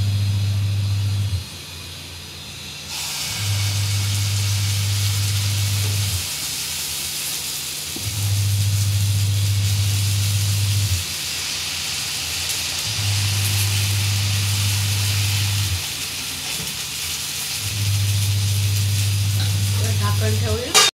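Dosa batter sizzles on a hot pan, a steady frying hiss throughout, alongside a low repeating hum that cuts in and out in regular blocks.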